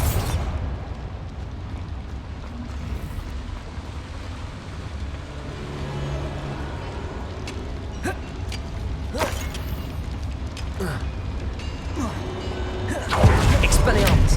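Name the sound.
explosive spells cast in Hogwarts Legacy video game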